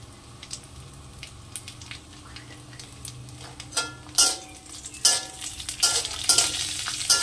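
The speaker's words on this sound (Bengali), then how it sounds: "এটাকে আমি একটু হালকা করে ভেজে নেব।" Grated coconut with dried red chillies lightly frying in a pan, a low sizzle under spoon scrapes and stirring knocks that grow busier and louder toward the end.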